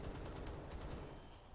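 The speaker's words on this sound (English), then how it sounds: "guns are firing. That always is disconcerting" Distant, faint gunfire from guns in the Space Engineers video game, a rapid rattling burst of repeated shots fading out over a second or so.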